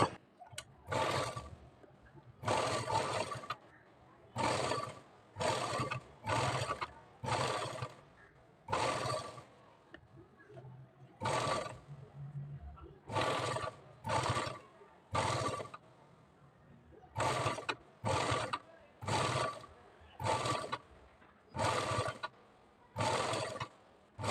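A sewing machine runs in repeated short bursts of rapid stitching with brief pauses between them, sewing a saree border alongside piping on a princess-cut blouse, close and steady with no talking.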